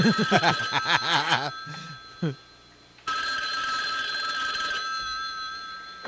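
An old telephone rings with a rapid metallic bell trill in loud bursts, first close and clear, then a longer steady ring follows after a short pause, with brief laughter in between.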